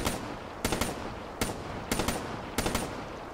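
Assault rifle gunfire in Call of Duty Zombies, several sharp short bursts of automatic fire spaced irregularly over a constant game background hum, fairly close and loud against the ambience.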